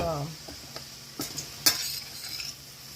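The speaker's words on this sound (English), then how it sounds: "I'm stirring a little bit more, it's looking a little dry to me." A utensil stirs spaghetti squash and pasta noodles in a pan, making scattered scraping clicks and clinks over a soft, continuous sizzle.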